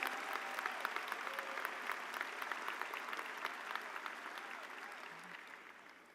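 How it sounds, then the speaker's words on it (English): A crowd applauds steadily at a high school commencement, dense clapping that holds for several seconds and slowly fades toward the end. "Please join me in a round of applause"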